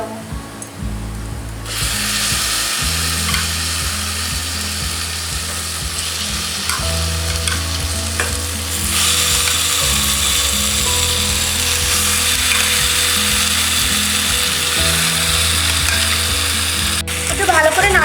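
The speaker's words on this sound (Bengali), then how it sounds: "এবার আমি ম্যারিনেট করা চিকেনগুলো এখানে দিয়ে দেবো" Marinated chicken sizzles loudly in a pan with reddish-browned fried onions, a continuous close frying hiss with scraping and stirring clatter throughout and no voices.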